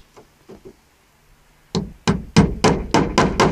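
Nails are hammered to tack horizontal overlapping wooden boards onto a wall. A few light taps come first, then about seven loud, close, evenly spaced hammer blows.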